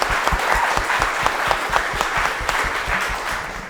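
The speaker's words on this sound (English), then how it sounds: "Let's have a round of applause for ShadowBid." Audience applause at a live user-experience startup competition, a dense steady patter of many hands clapping loudly and continuously throughout with no break, the crowd filling the room.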